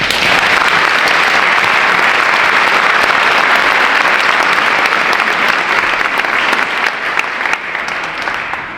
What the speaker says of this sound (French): Je pense que nous pouvons tous les applaudir.